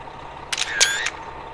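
An in-game camera shutter in American Truck Simulator fires while photographing a passing plane: a crisp, fairly loud two-part click with a short whirring tone between, standing out against a quiet background.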